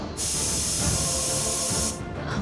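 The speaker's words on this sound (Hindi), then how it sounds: "बेबे मैंने दाल चढ़ा रखी है ना कुकर में," A pressure cooker cooking dal gives off a loud, close, steady hiss of escaping steam lasting about two seconds before it cuts back, with a faint murmur underneath.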